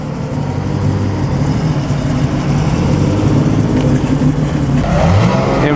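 A rare convertible at the 2013 Concorso d'Eleganza drives by, its engine a loud, continuous roar that swells slightly near the end, with no talking over it.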